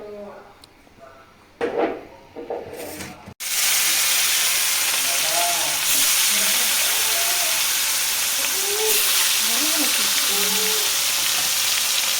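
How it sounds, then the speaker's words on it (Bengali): Snakehead fish sizzling loudly in hot oil in a wok, a sudden dense frying hiss that starts after a few seconds of quieter kitchen sounds and continues steadily to the end, with faint talk in the background. "মা এখন মাছগুলো তেলের ওপরে দেবে"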